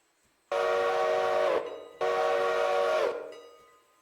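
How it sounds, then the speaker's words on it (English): A train whistle or horn sounds in two long, loud blasts with a short gap between them, the second trailing off as the train rushes past the dispatcher's room on a railway. "I do like being in the dispatcher's room when a train goes blowing past"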